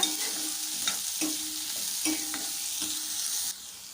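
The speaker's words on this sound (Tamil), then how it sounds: "இப்போ இது எல்லாத்தையும் சேர்த்துட்டு நம்ம வந்து நல்லா வதக்கிக்கலாம்" Onions and tamarind sautéing in a pan, a close steady sizzle with a few soft stirring scrapes, alone without talk, the frying quieting slightly near the end.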